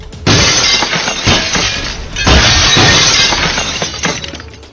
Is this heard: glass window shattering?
yes